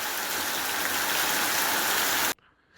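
Heavy downpour mixed with hail pellets, a loud dense hiss of pelting rain and ice that holds steady, then cuts off abruptly near the end.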